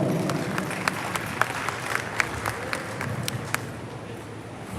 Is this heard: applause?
yes